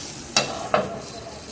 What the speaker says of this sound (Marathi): आपण आता ह्याच्यात टॅमॅटो सोडू. छान असं मिक्स करून घेऊयात, आणि याला छान परतवून घेऊ.